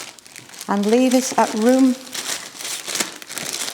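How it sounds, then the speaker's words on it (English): A plastic bag crinkles as Mexican paste for patchwork cutters is placed inside, steady crackling rustle running under and after a spoken phrase. "place this into a plastic bag and roll it into a sausage shape and place it into a plastic bag"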